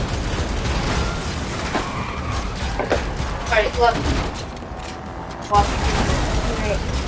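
Gunfire aimed at a car's tires in The Matrix Awakens video game, with several bursts and sharp shots rising over a dense, busy game soundscape, continuous and moderately loud.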